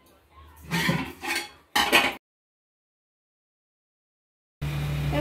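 Cooking pot handled in a home kitchen while setting rice on the stove: a couple of clanking metal knocks and scrapes, close and moderately loud, then a long silence before a steady burst of hiss or running noise at the end.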